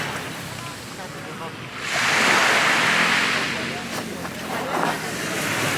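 Waves wash onto a small, unattended free beach near Naples facing Mount Vesuvius: a steady, close surf roar that swells into a louder breaking rush midway, with wind buffeting the microphone throughout.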